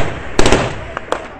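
A sharp blast reported as a rocket-propelled grenade in a combat zone, heard as a loud burst followed by a few quick cracking pops and lighter echoing reports.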